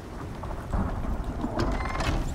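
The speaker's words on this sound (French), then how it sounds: "Donc on va être obligé d'attendre que l'orage passe." Thunderstorm weather in the survival video game Icarus: a steady rain-like broadband roar with low rumbling swells that build louder midway, no speech.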